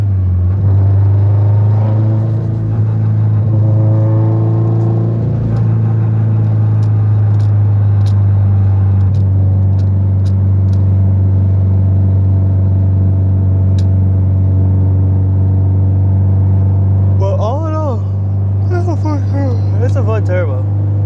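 Under loud talk, a 500whp turbocharged Subaru WRX STI engine rumbles steadily with a deep tone that rises and falls as it revs. A strong continuous drone runs throughout, and faint chirps break through near the end.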